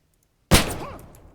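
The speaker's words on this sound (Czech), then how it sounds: "Dvě rány." A single loud gunshot from the video game Arma bursts out of silence and leaves a long, fading echoing tail.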